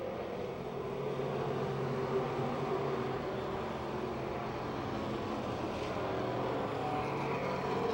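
A pack of race cars drones steadily around Pennsylvania Motor Speedway in a late-lap race, the engine roar thick and unbroken throughout, moderately loud and without any speech.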